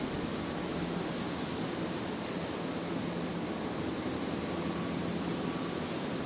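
Qatar flight 899 takes off from runway 01 right at Brisbane airport at night, a steady broadband jet engine roar, heard from a distance and unchanging throughout.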